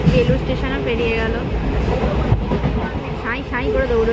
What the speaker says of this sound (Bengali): সাঁই সাঁই করে দৌড়চ্ছে ট্রেন